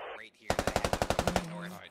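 An automatic rifle in the video game Squad fires a rapid burst of about a dozen evenly spaced, loud, close shots, with radio chatter faintly around it.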